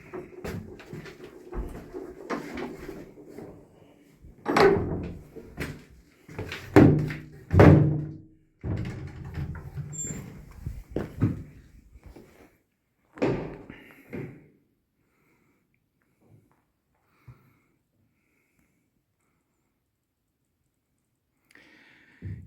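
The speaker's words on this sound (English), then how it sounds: "Heavy door." A heavy old church door opens and closes, giving a run of deep wooden thuds, creaks and latch knocks close by. Then comes quiet, broken by a couple of faint clicks.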